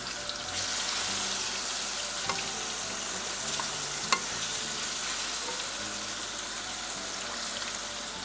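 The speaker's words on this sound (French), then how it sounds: "Mais on va les cuire dans l'huile." Meat and mushrooms frying in oil in a pan, a steady close hiss of sizzling with faint clicks and one sharp tap of a utensil partway through, no talk.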